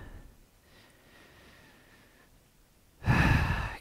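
A long, forceful exhale during a yoga pose in a guided class follows nearly three seconds of quiet room tone, loud and close at the very end.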